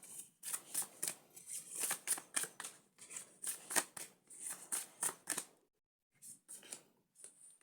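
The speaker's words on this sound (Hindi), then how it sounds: "पहले मैं कार्ड्स निकाल लेती हूँ" Tarot cards are shuffled and drawn by hand in a steady run of crisp riffling bursts, close and fairly quiet, then a short pause and a few more flicks.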